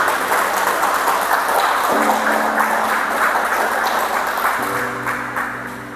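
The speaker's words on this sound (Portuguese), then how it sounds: "Vamos aplaudir o nome do Senhor Jesus." A standing church congregation applauds in praise of Jesus during a Portuguese-language service, a dense, loud wash of clapping with music tones entering underneath and fading slightly at the end.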